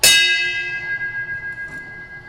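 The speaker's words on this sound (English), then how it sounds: "1 bell. Just stand by, we're getting ready to operate." One sharp strike of a carousel signal bell, then a long ringing decay, clear and close, with no voices.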